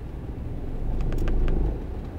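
Car pulling away from a traffic light, a low rumbling engine that swells gradually as it accelerates, heard from inside the cabin with a few faint clicks partway through.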